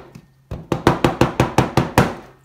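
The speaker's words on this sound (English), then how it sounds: "I've then just tapped it very slightly home with a soft rubber hammer" A soft rubber hammer tapping a part of a foundation build into place: eight crisp, evenly spaced taps in quick succession, close and fairly loud, with no talk.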